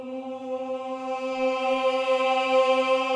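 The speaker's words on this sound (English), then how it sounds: "We've also got a choir in there, which sounds like this." A sampled choir from Project SAM's free orchestra plugin holds one sustained, steady vocal chord. It is smooth and moderately loud, swells slightly over a few seconds, and has no other sounds around it.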